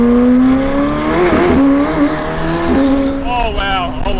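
A McLaren sports car pulls away in first gear, its engine rising in a loud, close, steady drone that climbs and dips in pitch as it revs, with a voice speaking over it.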